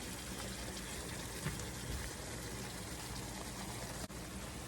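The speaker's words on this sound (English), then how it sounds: "I'm gonna add more water." Water pours steadily into a pan of pork chops on the stove, a continuous faint gushing and splashing with a brief knock near the end, no talk.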